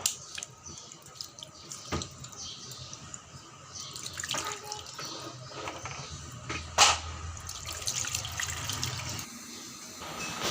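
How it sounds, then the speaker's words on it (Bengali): Water is poured from a tap or jug into a pan of pabda fish rubbed with spices, a close splashing and trickling that runs on and off over several seconds with small clinks and drips. "মেখে অল্প জল দিয়ে চুলায় বসিয়ে দেব আমার মাখাও হয়ে গিয়েছে এবার জল এড করবো"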